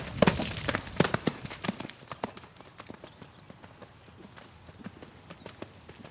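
A horse canters in an arena, its hoofbeats falling in a steady three-beat rhythm. The clip-clop is strongest at first, then continues softer and slightly more distant.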